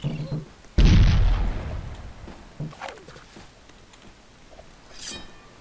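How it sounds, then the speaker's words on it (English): A blunderbuss fires in the pirate video game Galleons: a sharp, heavy boom near the start that decays over a second, then fainter pops and thuds later, heard up close in game audio. "We're just shooting the blunderbuss at them."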